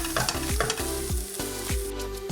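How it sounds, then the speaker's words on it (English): Tomato puree cooking in a pan for chicken dopiaza, a close hiss overlaid by a regular series of stirring scrapes and knocks, about four per second, with no talk. "add 1 tablespoon of tomato puree and just cook this off for 1 or 2 minutes"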